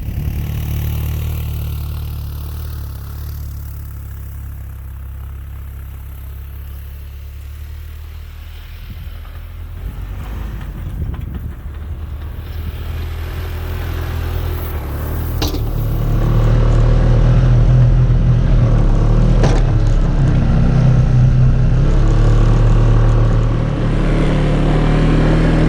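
ATV on new tires and rims riding through snow, its engine a steady loud drone that idles lower at first, then revs up and grows louder and rougher in the second half, with no talk.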